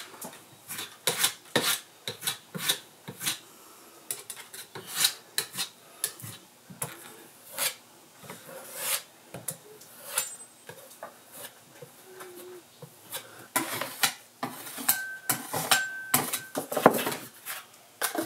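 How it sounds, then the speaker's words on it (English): A spackle knife skims a final coat of spackle onto window trim during a home renovation, giving quiet intermittent scraping strokes with short pauses between passes. "Just gonna skim a little bit more spackle on there."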